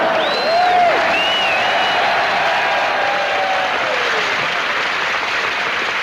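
A large audience gives a loud, sustained round of applause to welcome entertainer Joey Heatherton, dense and even from start to finish, with a few faint whistles on top.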